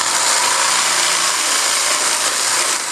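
A power tool cutting through PVC pipe gives a loud, steady whining and grinding drone that holds through a short stretch with no speech.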